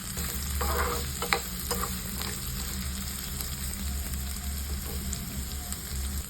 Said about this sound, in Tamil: அப்படியே ஒரு நிமிஷம் வதக்கி விடலாம்